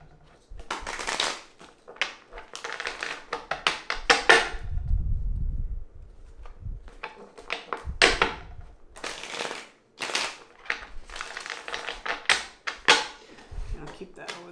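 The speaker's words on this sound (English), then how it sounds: "I'm going to pick some cards from the Rider-Waite deck right here to clarify that" Rider-Waite tarot cards are shuffled and handled on a table, giving bursts of crisp riffling and flicking, a low thud or two, and soft card slides, recorded close amid pauses.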